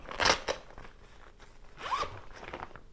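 A zipper on a camping gear bag is pulled in short, rasping strokes: a loud burst near the start, then a second, longer zip a moment later, close up with no talking.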